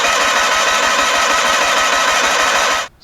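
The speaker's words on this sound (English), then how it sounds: "Cranks over really well." Onan P218G engine on a John Deere 318 garden tractor cranking over. It makes a loud, close, steady rapid pulsing drone that cuts off abruptly near the end.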